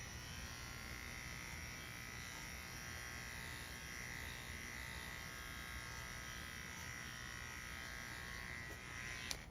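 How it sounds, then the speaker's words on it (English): Electric dog grooming clippers fitted with a 3/8 inch clip comb, trimming a thin poodle mix, give a steady close buzz that runs without a break for about ten seconds. "I'm gonna use my 3/8 inch clip comb."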